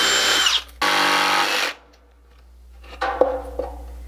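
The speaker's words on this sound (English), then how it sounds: "I'm going to draw each of the corners with a large bit so they'll each have a rounded edge, and then I'm just going to use a jigsaw to cut out the rest" Power drill with a large bit boring corners in wood for stackable soil sifting pans, a loud high whine in two close bursts, then quiet and a few fainter scraping taps.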